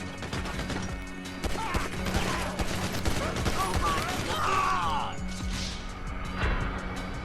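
Pistol shots and other gunfire in GTA V survival mode, dense rapid cracks and impacts in a chaotic firefight, with a voice talking over the shooting.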